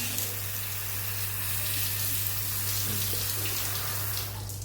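Water spraying steadily from a Shangpai adjustable shower head, a dense continuous hiss at even loudness throughout, close by with a constant low hum underneath.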